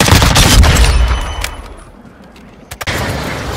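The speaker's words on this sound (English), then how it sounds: "Taking effective fire." Loud bursts of gunfire in the video game Call of Duty Warzone 2.0, a heavy rattling volley up front, then a lull and sharp cracking shots near the end.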